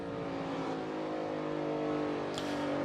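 NASCAR Cup Series race car engines at the United Rentals Work United 500 hold a steady, loud, harmonic roar throughout, with no talk over them.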